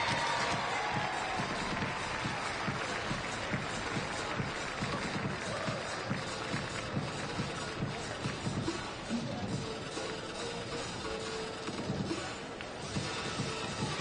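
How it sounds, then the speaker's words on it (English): Crowd at a swim meet in Fort Lauderdale applauding swimmers after an 800 freestyle race, a dense, steady roar of clapping and cheering from a large arena audience throughout, with some voices mixed in. "a big round of applause for our 800 freestylers"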